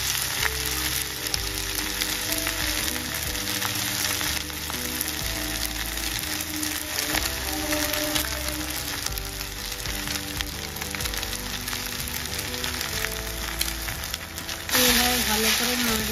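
Pasta frying in a pan with Maggi and chowmein masala, a dense continuous sizzle stirred throughout, with background music running loudly underneath the whole time.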